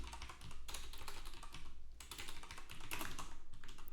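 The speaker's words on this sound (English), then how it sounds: "if I could type" Rapid typing on a computer keyboard while cloning a Python project from GitHub, a steady close stream of clicking keystrokes with a brief pause near the middle, no voices.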